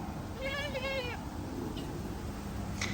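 A guard goat gives one close, wavering bleat near the start, then low background noise with a faint voice follows.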